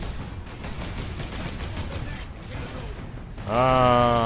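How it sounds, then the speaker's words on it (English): Rocket launcher fire in the video game Warhammer 40k: Space Marine: a steady run of heavy, rumbling blasts and explosions close up, ending in a sustained tonal sound. "More tedious rocket launcher shooting."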